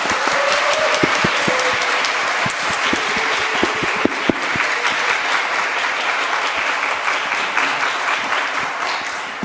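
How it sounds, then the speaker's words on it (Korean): Seminary chapel congregation giving a warm applause to prospective students at an admissions information session, sustained crowd clapping filling the whole stretch, fairly loud and even, with only faint voices underneath. "뜨거운 환영의 박수 한번 부탁드리겠습니다"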